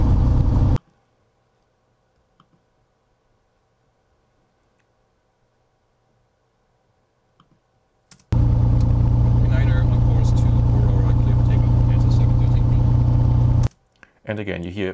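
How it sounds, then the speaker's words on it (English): Steady, loud aircraft engine drone fills an in-flight cabin for about five seconds after a long near-silent stretch, then cuts off abruptly; faint voices sit under it. "And again, you hear mostly engine noise"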